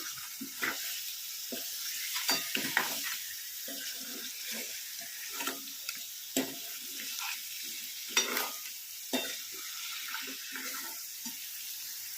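Crabs sizzle in a hot pan for a crab curry while a spoon scrapes and clatters as they are stirred, under a steady frying hiss with no voices.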